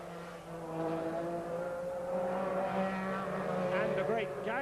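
Metro 6R4 rally cars race past at the 1988 Birmingham Superprix street circuit, a loud engine drone that swells and shifts in pitch while a commentator talks over it.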